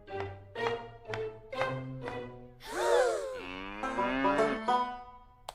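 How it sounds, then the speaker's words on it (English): A cow moos several times in a row, short rising calls followed by a longer drawn-out low, fairly close and clear in a quiet indoor setting with no talking. "that's a cow"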